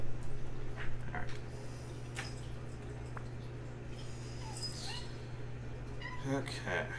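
A cat meows a few short times in a room over a steady electrical hum, with a person talking nearby.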